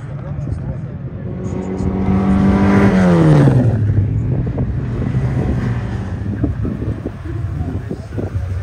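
Vintage race cars from a Tour Auto leg between Mulhouse and Clermont-Ferrand roar close by, one engine rising then dropping in pitch as it sweeps past, with wind buffeting and a voice talking over the din.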